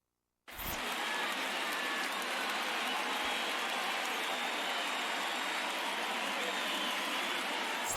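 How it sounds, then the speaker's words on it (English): Steady rain hiss over a ballpark in the MLB The Show baseball video game, a dense, even wash of sound that begins abruptly and holds at moderate level throughout without pause. "There is rain in the area, but we've been given the go-ahead to get this."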